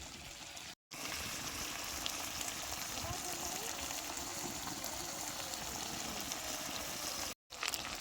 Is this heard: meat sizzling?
yes